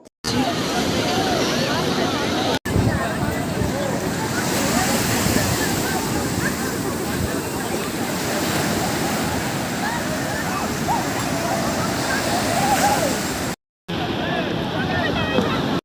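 Sea waves breaking on Puri beach make a continuous loud roar and wash with wind buffeting the microphone, briefly cutting out near the start and end, with voices faint beneath.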